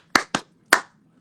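Hands clap three sharp, close claps in an uneven beat, the first two quick and the third after a short pause, with no voices.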